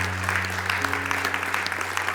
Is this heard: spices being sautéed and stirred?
no